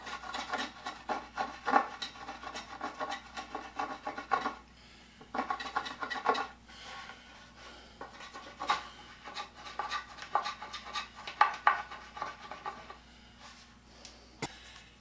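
A spokeshave shaves wood to shape wheelbarrow garden planter handles, producing repeated dry rasping strokes in uneven bursts with brief pauses between passes, close and clear with no talking.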